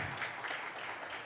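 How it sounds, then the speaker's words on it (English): Brief burst of audience applause at a business conference session on digital entrepreneurship, a steady wash of many hands clapping, moderately loud and continuous with no voices on top. "well-deserved applause"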